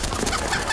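A bird, chicken-like, clucks in a brief, dense burst of noisy sound just before its feathers are plucked, with no voices over it.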